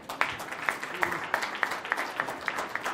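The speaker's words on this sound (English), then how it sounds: "Give yourselves a round of applause" Audience applause at a live community celebration, a moderate crowd clapping with some sharp individual claps standing out in a steady patter.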